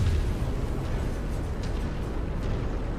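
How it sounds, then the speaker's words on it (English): Ammo explosion on a BattleTech-style mech in a video game, a loud, dense rumbling blast that fills the whole stretch, steady and heavy with no talking over it. "Ammo explosion means pilot death most of the time."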